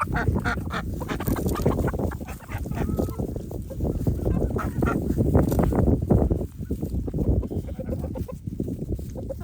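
A group of ducks quacks and honks continuously nearby, a busy overlapping chatter of birds with no pauses.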